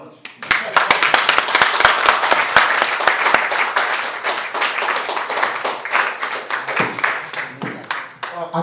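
An audience at a cinematography masterclass workshop claps after a talk, starting with a few sharp nearby claps that quickly swell into loud, dense applause lasting several seconds.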